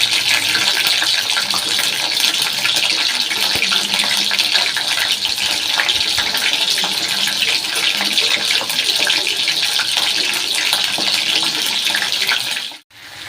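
Dishes are washed under a running tap as a strong, continuous gush of water streams into the sink, loud and close, then cuts off abruptly near the end; no talking.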